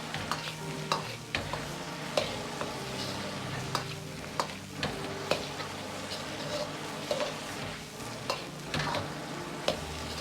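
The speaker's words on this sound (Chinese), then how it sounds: "放入适量的郫县豆瓣酱，炒出颜色，炒出香味" Pixian doubanjiang chili bean paste stir-fries in a wok with a soft, steady sizzle, broken by regular clicks and scrapes of the spatula against the pan.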